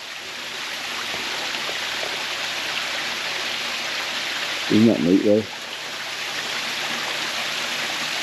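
Water drains from a small pool and trickles into a creek outdoors in a steady, even wash of rushing sound, with a brief spoken remark partway through.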